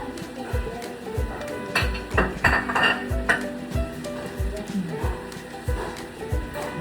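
A spatula stirs and scrapes mango cheesecake filling in a bowl, giving repeated soft knocks and clinks against the bowl in a steady rhythm, close and moderately loud, with no talking.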